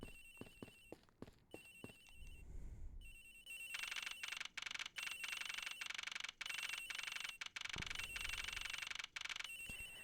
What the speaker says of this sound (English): Sounds like the phone is up the flight attendant's room.